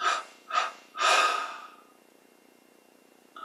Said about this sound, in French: On prend maintenant une inspiration profonde. On expire en 3 fois.